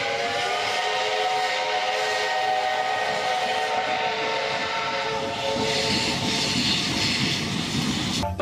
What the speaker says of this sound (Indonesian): Ini adalah kereta uap warna kuning.